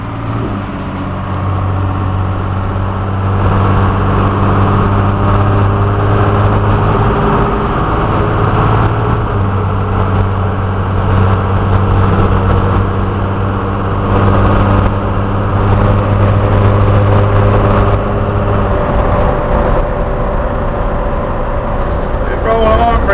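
A Utilimaster 14 ft FedEx step van on the move, its diesel engine giving a steady, loud drone and rumble with no break, and the road noise inside the cab holds even.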